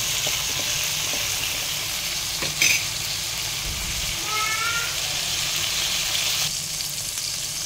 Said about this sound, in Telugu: టమోటా కొంచెం ఆయిల్లో బాగా మరిగివ్వాలన్నమాట